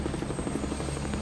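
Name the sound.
helicopter flying during Hurricane Katrina evacuation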